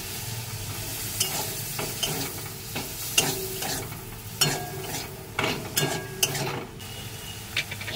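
Okra lightly fried in a pan sizzles steadily while a spoon stirs and scrapes in ginger-garlic paste, giving irregular clinks and scraping bursts over the constant frying hiss.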